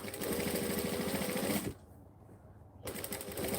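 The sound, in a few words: sewing machine sewing curves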